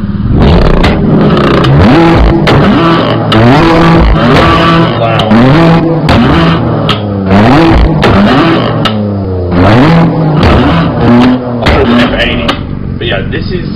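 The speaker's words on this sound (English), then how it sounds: "Now, this is where I love to rev it up." Engine of a 2018 BMW M3 revving in the Assetto Corsa racing game, loud and continuous, with repeated rising and falling rev sweeps heard under steady talking throughout.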